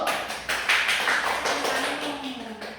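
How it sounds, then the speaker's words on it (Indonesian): Classroom applause for a student group's question during a teaching session: a brief burst of many hands clapping, fairly close and steady for a few seconds before tapering off, with no talking. "Selamat kasih tepuk tangan dulu"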